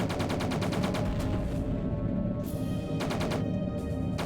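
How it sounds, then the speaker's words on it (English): Enemy fighter cannons in G-Police 2 fire in dense rapid bursts of loud gunfire that repeat on and off over a constant roar of engine and combat noise, with no voices. "I'm facing their cannons."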